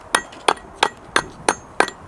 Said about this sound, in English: that's how they did it in the old days. Hammer and chisel.